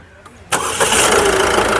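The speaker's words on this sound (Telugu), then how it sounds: "ఇంజన్ ఆపు ఒక్కసారి స్టార్ట్ చేయి" A 2017 Ford EcoSport Trend starts in one go: a brief quiet stretch, then the engine catches with a sharp onset and settles into a steady, close, loud idle rumble.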